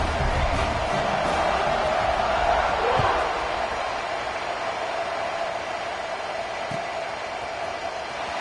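A football stadium crowd at a South Carolina versus Mississippi State game roars in a steady, loud, broad wash as the kickoff comes, with a couple of faint thumps within the noise.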